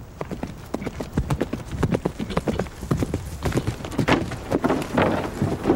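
Cavalry horse hooves pound toward a shield wall in a rapid, continuous clip-clop of galloping, loud and close throughout.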